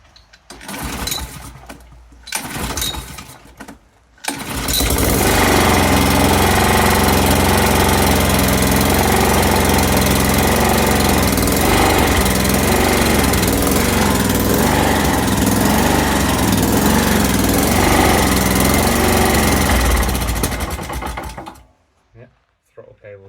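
Small engine on a muck truck mini dumper, set on choke, catches after a few pulls and roars into a loud, steady idle in a workshop, then cuts off abruptly; brief talk before it starts.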